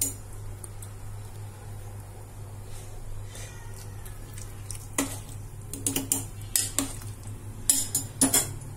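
A metal spoon stirs veg pulao with ghee inside a pressure cooker. Sparse clinks come first, then denser scraping and clinking toward the end, all over a steady low hum.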